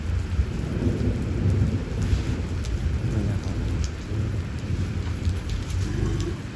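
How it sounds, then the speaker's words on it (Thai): Steady heavy rain pours down during a storm, with a continuous dense wash of drops close by and low rumbling thunder running underneath throughout. "อันนี้ก็พายุเข้าแหละครับผมถึงได้ฝนตก"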